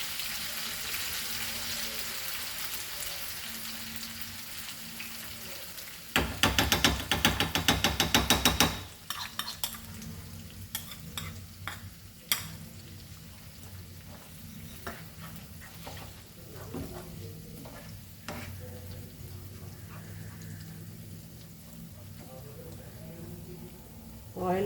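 Dried Bombay duck fish drops into hot oil with the gas turned off, setting off a loud burst of crackling sizzle that settles into a steadier frying hiss with occasional utensil clinks and a voice now and then.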